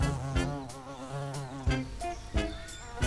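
A large carpenter bee (xylocope), a wild bee about the size of a thumb, drones in a loud, sustained buzz that rises and falls in pitch as it moves close by, with a few brief bumps along the way.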